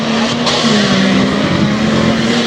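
Stock four-wheel-drive trucks race and slide on a dirt track at a Tuff Trucks event in Windsor, PA, a loud continuous engine roar with a steady droning tone and no break.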